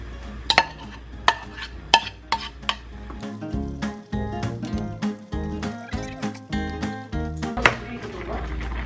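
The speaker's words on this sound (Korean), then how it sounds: "이제 순두부를 넣어줄게요" Soft tofu going into a simmering sundubu-jjigae stew, with sizzling and bubbling broken by clinking utensil taps and stirring knocks at an uneven rhythm, close and fairly loud.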